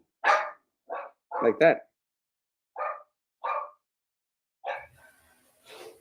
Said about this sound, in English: I'll pay you, anyone, to adopt this dog because it's just barking